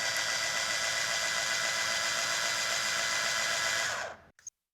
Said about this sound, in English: I'm going to just hold this taut and hit the button.